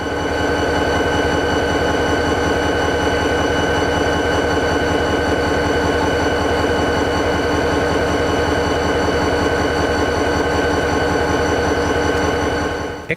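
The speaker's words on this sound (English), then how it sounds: "Some of the live exhibits included C501 on idle" Locomotive C501 idling at the Seymour Railway Heritage Centre depot, a loud, steady diesel rumble with a constant low throb and humming overtones that continues unchanged throughout.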